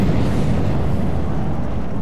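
Missile launch and explosion in the naval combat game From the Depths, heard as a loud, continuous low rumbling roar that fills the whole two seconds with no talking.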